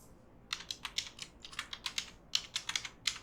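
Fingers tap a computer keyboard in quick, uneven bursts of crisp keystrokes, close and fairly quiet against a silent room, with no voices.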